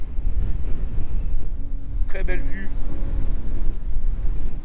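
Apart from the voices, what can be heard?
strong wind on a hiking trail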